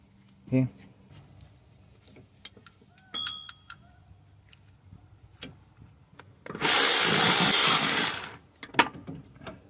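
A small ratchet backs out a screw during water pump replacement on a 2007–2016 Toyota Sienna 3.5 V6. Scattered clicks and a brief voice come first, then a loud, raspy ratcheting burst lasts about two seconds.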